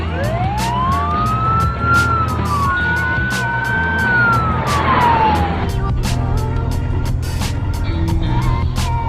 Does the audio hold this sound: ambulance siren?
yes